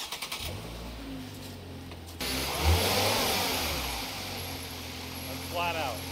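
A Ford Transit van's engine held at full throttle, a steady, loud mid-pitched roar that swells after a brief start and carries on continuously, with someone talking over it.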